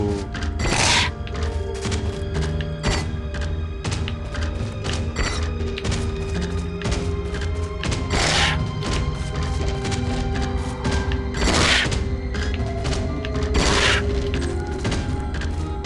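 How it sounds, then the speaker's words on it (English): A sword's heavy attacks hit a training dummy in the Bleak Sword game, repeated dull thuds and crunching impacts with occasional sharp swishes, loud and close over a steady game backdrop. "Perform 3 heavy attacks on the dummy."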